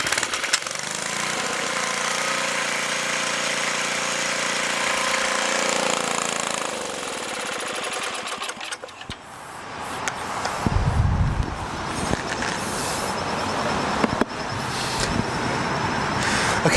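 A snow blower engine runs loud and close with a steady rough drone, then revs and sputters unevenly with knocks and bursts partway through.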